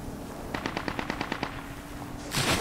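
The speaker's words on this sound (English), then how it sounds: "That's enemy fire." Distant automatic gunfire from enemies in the military shooter game Squad rattles off in a quick burst of about nine evenly spaced shots, followed by a louder nearby crack.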